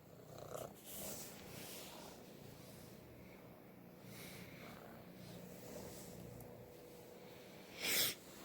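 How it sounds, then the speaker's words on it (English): A small kitten purrs softly and continuously up close, a low steady rumble that runs the whole time with a brief louder snuffle near the end. "This is my little kitten, Smokey."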